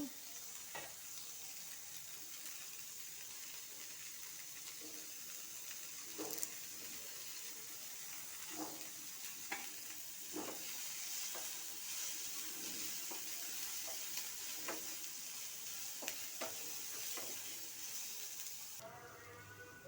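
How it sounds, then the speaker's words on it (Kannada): Ingredients for a lentil and drumstick-leaf sambar masala are dry-roasted in a pan with steady stirring, giving a soft continuous sizzle with repeated light scraping strokes, faint and close, with no talking. "ಸ್ವಲ್ಪ ಕೆಂಪಗಾಗೋವರೆಗೂ ನಾವು ಇದನ್ನು ಹುರ್ಕೋಬೇಕು"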